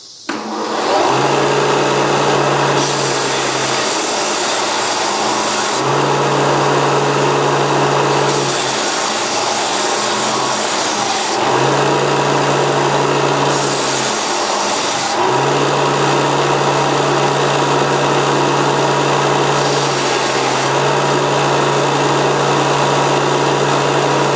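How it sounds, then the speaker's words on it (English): A Porter Cable combination disc and belt sander runs steadily and loudly on its own, a constant high whine with a few brief shifts in pitch as work is pressed against the abrasive. "using this Porter Cable disc and belt sander that I bought at Lowe's"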